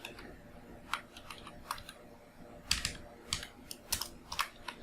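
Fingers type on a computer keyboard while coding in JavaScript, faint irregular clicks and short bursts of keystrokes with brief pauses between them, heard alone against quiet background.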